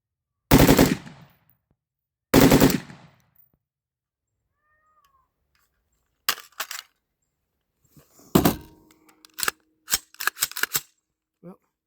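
Bursts of rifle fire from a BCM 11.5 carbine fitted with an FRT trigger, running through a full magazine: two loud rapid strings up front, then scattered shorter volleys and single cracks after a pause, outdoors with no talk.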